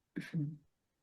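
A single short, sharp sneeze, close and sudden, with a quick burst followed by a brief voiced tail, then silence.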